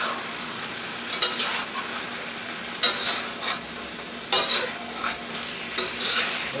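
Bok choy stems and green onion stir-frying in a hot wok, a steady sizzle broken by several sharp scraping stirs of the spatula at intervals.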